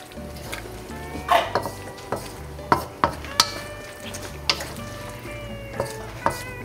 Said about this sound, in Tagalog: Okay, konting halo na lang to guys.